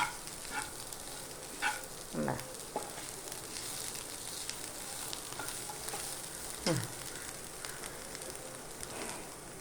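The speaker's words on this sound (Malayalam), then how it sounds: "മുളക് പൊടി, മഞ്ഞൾപ്പൊടി, മസാല, ഉപ്പ് ആവശ്യത്തിന് ചേർത്താണ് ഇത് കിണ്ടിക്കൊണ്ടിരിക്കുന്നത്" Egg curry masala with chili powder, turmeric, spice mix and salt is stirred in a pan. A soft, quiet sizzle runs throughout, broken by a few sharp spoon scrapes against the metal, with no talking.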